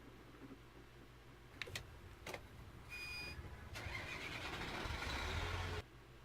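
A truck engine in the video game Euro Truck Simulator 2, an Auman GTL, cranks with a couple of clicks and whirs, then starts and settles into a steady rumbling idle before cutting off abruptly.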